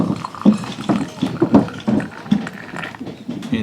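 Hot traditional Turkish tea, diluted with water, poured into a glass during a visit to Bursa, Turkey; a near liquid splash with repeated gurgling pulses over a steady wash, no talk.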